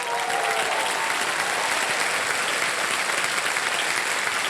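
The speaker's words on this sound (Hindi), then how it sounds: "तो एक बार ताली बजाइए ना।" A studio audience on the quiz show Kaun Banega Crorepati claps loudly in a dense, steady burst of applause that fills the whole moment without a break.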